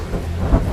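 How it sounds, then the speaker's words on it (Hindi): Heavy rain pours steadily in a movie scene while a low rumble of thunder rolls underneath, a dense wash of noise with a brief deeper swell near the end. "बहुत बारिश हो रही है"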